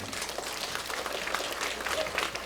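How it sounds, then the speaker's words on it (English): Guests at a Cambodian community retirement dinner in Long Beach applaud the City of Signal Hill mayor, a steady dense round of clapping from a moderately distant crowd with a murmur of voices underneath. "Ladies and gentlemen, give the mayor a big hand."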